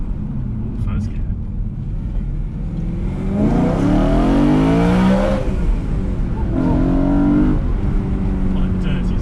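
A BMW E92 M3 engine accelerates hard in first gear, its rising harmonic tone sweeping upward loudly from about three seconds in, then dropping and climbing again in a second pull, with a voice speaking briefly beforehand.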